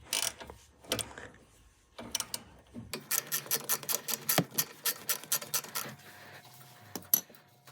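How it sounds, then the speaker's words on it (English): A hand ratchet clicking rapidly while loosening suspension bolts on a Toyota GR86, with a few separate clanks at first and then a quick burst of sharp close metallic clicks. "it's pretty easy to break all these bolts loose"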